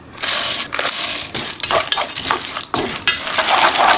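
Skinned peanuts fry in oil with a loud, close sizzle broken by repeated scraping and stirring strokes and small clinks against the pan.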